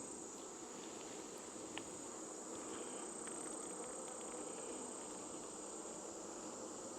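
Honeybees drone at a hive on a farm, a steady, even buzzing hum that stays fairly faint and continuous throughout, with no voices.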